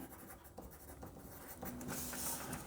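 Pen scratching on test strips while labeling them, faint scribbling strokes in short bursts over a quiet room hum, with a slightly louder scrawl near the end.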